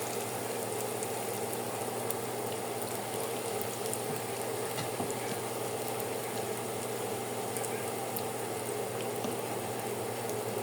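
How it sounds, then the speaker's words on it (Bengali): A soft, steady sizzle of potato and bread rolls frying in hot oil in a frying pan, constant and fairly quiet throughout with no voices. "এদিকে আমি ফ্রাই প্যানে তেল দিয়ে দিয়েছি, তেলটা গরম হয়ে গেছে।"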